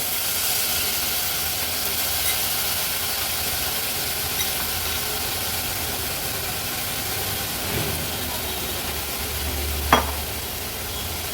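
Drumstick pods, tomato, potato and white rajma stir-fried in ground masala paste in a pan, giving a steady close sizzle and hiss with soft stirring scrapes throughout, ending in a brief sharper clatter.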